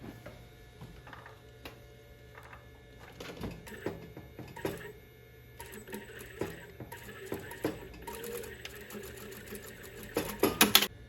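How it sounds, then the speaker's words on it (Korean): A sewing machine stitching a T-shirt in short rattling bursts, stopping and starting, with light handling noises between runs. "재봉틀이 있으시면 재봉틀로 여기를 박으셔도 돼요."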